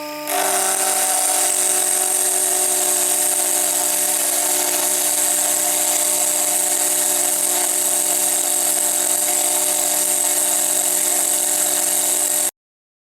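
A milling machine cuts a key slot into a metal part meant to fit onto a housing, giving a loud, steady, high-pitched machining whine that runs unbroken and alone until it stops abruptly near the end.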